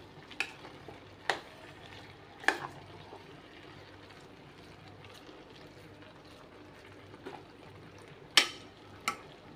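Vegetables with coconut sautéing in a pan: a faint, steady low sizzle with a few sharp scrapes and clinks of a spoon stirring against the pan.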